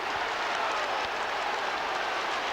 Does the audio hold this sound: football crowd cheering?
yes